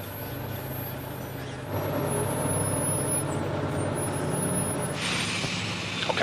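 An aircraft tug pushes back an easyJet passenger jet on the airport apron, a loud steady diesel rumble that swells and holds, with a hiss and faint reversing beeps joining near the end.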